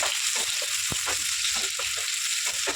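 Chopped onion, one large onion, frying in hot oil in a pan, a steady dense sizzle running throughout with a few soft stirring knocks, close and alone with no talk.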